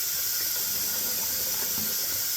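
Hot water streams from a tap into a sink as it fills, a steady bright hiss with a faint gurgling underneath, continuous and fairly quiet with no talk.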